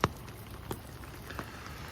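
Rain falls steadily in a green park in Vancouver where ducks swim, a soft continuous hiss with a few distinct drop taps, faint and even, with no talking.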